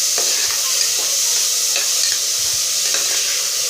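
Chopped tomatoes sizzling and frying in hot oil for a Tamil kudal (goat intestine) gravy, a steady loud crackle with occasional stirring scrapes throughout, no talk.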